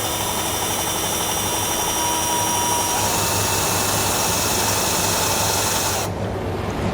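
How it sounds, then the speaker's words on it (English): A power drill bores a pilot hole in a 2014 Honda CR-V during a base plate install, a loud steady whirring drone holding constant for about six seconds before stopping abruptly. "then we'll come back and drill a pilot hole"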